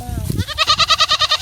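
A goat on a Jamaican countryside farm gives a loud, close, wavering bleat in quick, rhythmic pulses, just after a brief burst of voice and handling noise.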